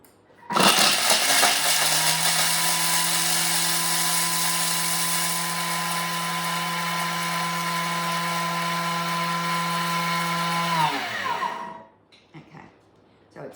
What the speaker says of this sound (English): we're going to grate it for 10 seconds on speed 10